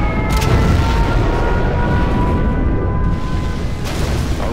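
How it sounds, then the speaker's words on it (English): A nuclear missile launch in the strategy game C&C Generals Zero Hour roars as a loud, sustained low rumble with a dense broadband wash and faint whining tones, steady for several seconds with no talk. "Nuclear missile launched"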